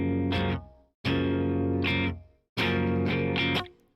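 Electric guitar fed through a plate reverb pedal set to a 40% wet mix: three sustained strummed chords, each ringing out and decaying into a smooth reverberant tail before the next, no voices.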